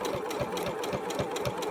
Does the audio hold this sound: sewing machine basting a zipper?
yes